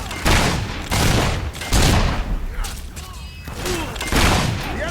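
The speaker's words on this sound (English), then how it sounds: "The enemy's shooting at" Rapid bursts of automatic gunfire from enemies in the video game Fable III, loud and close, arriving in several heavy volleys with short gaps between them.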